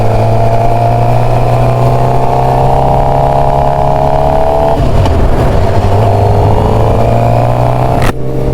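A brand-new 2024 Suzuki GSX-R750 motorcycle engine running loud and close, holding a steady idle drone, then revving up as the bike pulls away, ending with a sudden knock.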